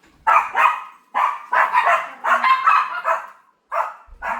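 Several dogs bark in short, close bursts in a backyard while waiting to be fed, with sharp repeated woofs and a brief pause before a final volley.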